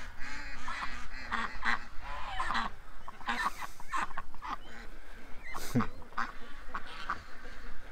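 Female breeder ducks honking and quacking in a noisy flock, calls overlapping continuously at close range, with a person's voice in the background.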